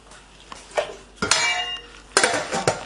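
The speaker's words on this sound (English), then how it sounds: "we're going to just pop these in a big stock pot of water." Ingredients for chicken stock clatter and clink into a metal stock pot of water in a few sharp bursts, with brief ringing between drops.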